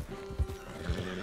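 Horse in the Red Dead Redemption 2 video game snorting and whinnying with soft hoof clops, two brief louder bursts over a steady low game background.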